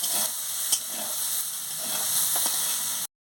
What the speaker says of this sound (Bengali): এবার আমি সোয়াবিনগুলোকে ভেজে নিচ্ছি দিয়ে আমি ভালো করে এটাকে ভেজে নিচ্ছি